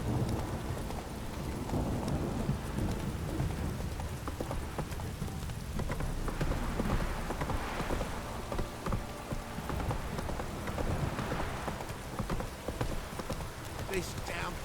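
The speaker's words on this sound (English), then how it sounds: "This downpour's a bastard," Steady heavy rain pours down in The Witcher 3, a constant hiss of drops on the surroundings with low rumbling beneath and a horse's hooves clopping through it.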